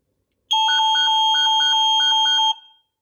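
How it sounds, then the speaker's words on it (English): A Nest Secure home alarm system sounds a loud, close electronic tone, pulsing in a rapid repeating two-note pattern for about two seconds before cutting off with a short decay. "I want to show you guys how loud this alarm system is"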